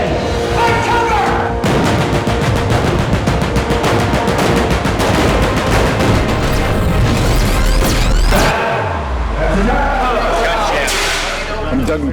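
Pyrotechnic explosions on a film set, with a mortar and a propane popper throwing debris and fire, form a dense rapid barrage of loud blasts and crackles that continues almost without pause, with a heavy booming surge near the end.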